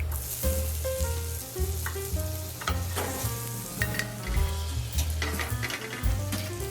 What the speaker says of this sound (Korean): 알맞은 온도로 익혀진 것 같으면 고기는 빼주고 버터를 넣어서 베이스팅 작업을 해줄게요